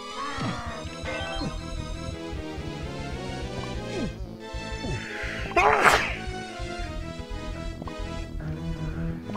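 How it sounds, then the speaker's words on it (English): A single sharp sneeze bursts out over game music during a Donkey Kong 64 playthrough. "Don't mind the sneeze."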